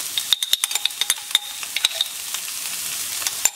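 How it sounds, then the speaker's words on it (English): Curry paste and onions fry in a pan with a steady, close sizzling hiss, punctuated by a quick run of sharp utensil taps and scrapes early on, then continuing as an even sizzle. "And you just cook off the curry paste while your onions are cooking."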